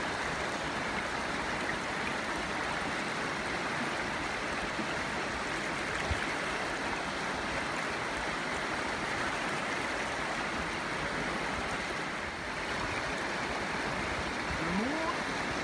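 River water flows along a beach in a continuous, even rushing wash, close and moderately loud, with a faint splash near the end and no one speaking.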